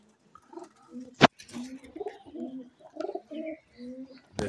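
Pigeons in a Lahore loft, including a female, coo in a steady series of soft, low, throaty calls, close by, with a couple of sharp clicks or knocks breaking in.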